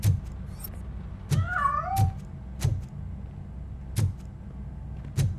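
A cat in the video game Robocop: Rogue City gives a rising, wavering meow, heard between sharp periodic thumps and clicks, moderately close, with no one talking.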